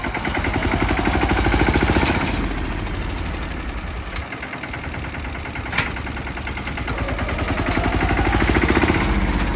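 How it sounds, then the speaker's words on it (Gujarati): A tractor engine runs nearby on a farm field, with a loud, steady low rumble and a rattling throb that continues without a break. "ટ્રેક્ટર હાલવાનું હો ભાઈ."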